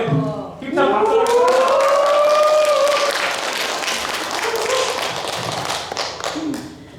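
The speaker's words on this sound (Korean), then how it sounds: "먼저 우리 힘찬 박수를" Audience at a Bible verse recitation contest gives a strong round of applause, steady, dense clapping that carries on for several seconds and then thins out, with a brief rising tone near the start.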